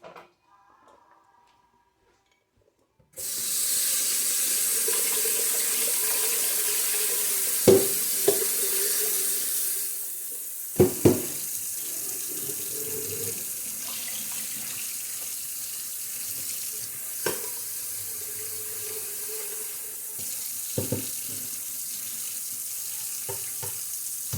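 Water runs steadily from a tap into a sink, a continuous broadband rush after a few seconds of quiet, with occasional clinks and knocks.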